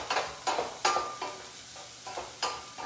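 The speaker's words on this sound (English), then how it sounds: "Again, saute it for a couple of minutes." The white parts of green onions sauté in a pan, with rhythmic scrapes and clacks of a spoon stirring roughly every half second over a soft sizzle.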